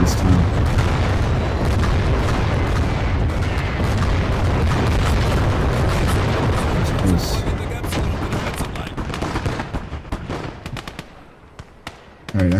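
Artillery cannon fire in the WWII strategy game Call to Arms: Gates of Hell, a sustained barrage of heavy booms and rumbling explosions mixed with gunfire, loud and continuous before thinning out toward the end.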